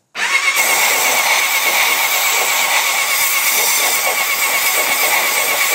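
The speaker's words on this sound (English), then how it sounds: "Turn the engine over, throw some compressed air through here." A Suzuki Gixxer motorcycle engine cranks and turns over steadily, loud and close, a continuous mechanical whirring that never catches and runs throughout.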